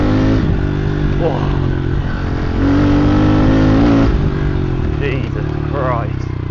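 Pit bike engine revving at part throttle, a loud, close buzzing drone that rises and falls in pitch through several quick revs, with someone talking over it.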